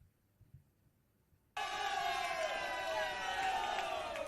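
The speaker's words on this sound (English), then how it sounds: "And there you can hear the crowd as well" A beach tennis World Cup semi-final crowd of passionate fans, Brazilians among them, bursts into loud sustained cheering and whistling after a quiet lull, a dense roar that holds steady to the end.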